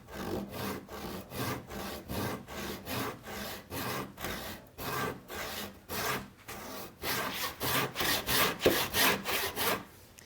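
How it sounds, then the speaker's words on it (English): A hand saw cuts through wood during a shave horse build, making steady, rhythmic rasping strokes close by, about two per second, growing slightly louder and brighter toward the end. "let the saw do the work, let the weight of the saw do the work"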